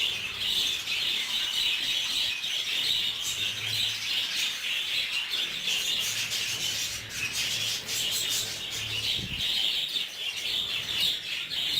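Budgerigars in a breeding aviary keep up a dense, continuous twittering and chirping, with rustling and scraping noises mixed in throughout, and no one speaking.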